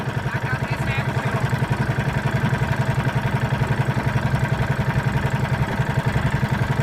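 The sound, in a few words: engine running after being checked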